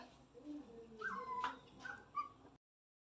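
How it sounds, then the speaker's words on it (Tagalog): A pet puppy whimpering and yipping softly at home, a few thin high whines and short cries close by over a quiet room, ending abruptly in silence. "Tingnan mo ang aming aso"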